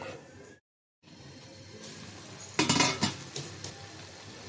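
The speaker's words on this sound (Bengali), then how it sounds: "ঢাকনাটা দিয়ে রাখলাম, সিদ্ধ হোক।" A lid is set on a pan of frying vegetables, chichinga (snake gourd), sweet pumpkin and potato, with a clattering metallic clink and a few rattles after a brief silence, over a low background hiss.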